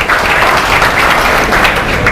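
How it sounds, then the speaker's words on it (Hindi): A classroom of students clapping loudly together, a dense, continuous burst of applause at close range with no break. "एक बार जोरदार तालियां बजा लीजिए अपने लिए"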